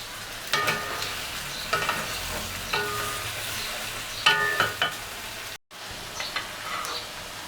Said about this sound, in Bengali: এটা একটু আমি কষিয়ে নিয়েছি, চুলা জাল বাড়িয়ে